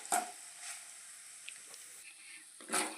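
Banana flower curry with toor dal frying in a pan, a soft, fairly quiet sizzle with a few sharper clicks and stirring scrapes at the start and end.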